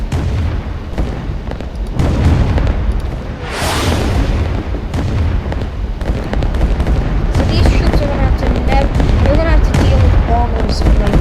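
Bombers dropping bombs in the Rise of Nations strategy game, giving a dense run of booming explosions and artillery-like blasts that carry on loudly throughout, with a sharp whooshing burst in the middle.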